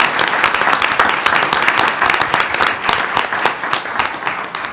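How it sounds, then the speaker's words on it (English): A round of applause at a school board meeting: dense, steady clapping from a roomful of people, loud and continuous for several seconds. "So let's give them another round of applause."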